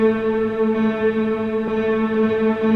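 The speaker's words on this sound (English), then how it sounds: "when I turn on the reverb here, you can hear that the room spaces out," Piano with reverb switched on holds a sustained, blurred chord whose notes wash together into a roomy, continuous ring, with one soft fresh attack midway and no voices.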